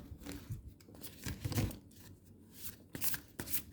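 Tarot cards shuffled by hand in a quiet room, a series of quick riffling, papery bursts close by, soft and intermittent, with no talk.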